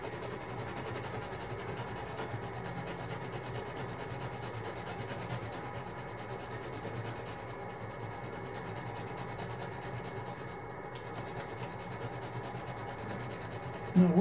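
A knife blade scraping steadily along a dollar store firestarter block of fine sawdust particles, a continuous close rasping with no talk.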